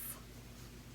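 A pen scratching across paper as someone writes upside down during a monoprint session with ink and paper, a brief, soft, steady scrape close by with no talking.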